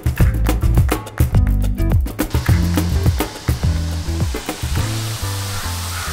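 Chakkuli deep-fry in hot oil in a deep pan, crackling and sizzling loudly up close, with bursts of bubbling that settle into a steadier hiss toward the end.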